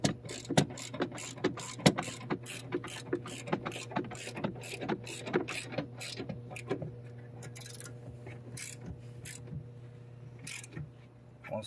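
A ratchet tightens a bolt on an under-seat storage box for a 2009-2014 Ford F150 SuperCrew cab, giving a steady run of close, crisp clicks for about seven seconds before slowing to a few scattered clicks.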